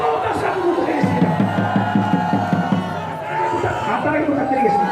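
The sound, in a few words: rally crowd applause and cheering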